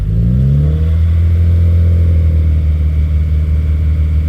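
A loud car engine is held at a steady 2,000 RPM, rising briefly before settling into a constant, close drone with no talk.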